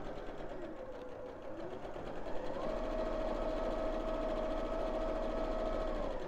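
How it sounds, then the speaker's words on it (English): A sewing machine runs steadily while stitching a seam on a fabric peg bag, its close, even motor whir and rapid needle clatter holding constant and rising slightly in pitch partway through, with no talk over it. "When we get to the top, we're going to stop sewing and reverse."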